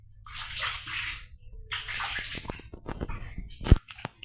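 Water poured into containers at home, with splashing pours in two bursts followed by scattered drips, knocks and handling sounds close by.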